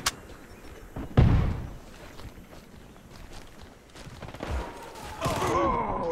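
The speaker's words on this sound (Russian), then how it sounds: "Осторожно, граната!" A grenade goes off in the shooter game Warface with a loud, deep blast. Scattered gunfire and footsteps follow, and another burst of shots comes near the end.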